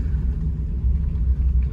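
A car's low, steady engine rumble fills the cabin as it pulls over and parks at the roadside near a waterfall trail in the villages of Sopore, Baramulla, with no talk.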